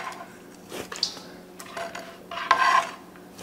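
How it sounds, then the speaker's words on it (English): A kitchen knife chops onions on a cutting board, a few scattered knocks and scraping slices, fairly close and moderately loud, with a longer rasping scrape near the end. "I cut up the onions."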